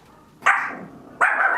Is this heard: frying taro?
no